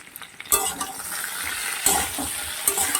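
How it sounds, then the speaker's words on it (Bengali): Spices for a fish curry, with salt and ground coriander, are stirred and fried in a pan. A close, continuous sizzle runs throughout, and a few sharp scraping stirs against the pan stand out above it. "এবার আরও মিনিট দিই এরকমভাবে নেড়ে চেড়ে নিতে হবে"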